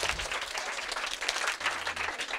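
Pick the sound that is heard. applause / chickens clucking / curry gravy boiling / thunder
applause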